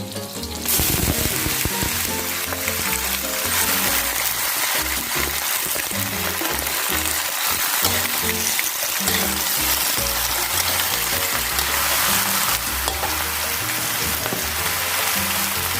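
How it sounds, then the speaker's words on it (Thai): Vegetable shoots stir-fry in oil in a wok over high heat, giving a loud, continuous sizzle and crackle with clattering and scraping from the pan throughout. "การผัดผักต้องผัดไฟแรงๆนะคะ"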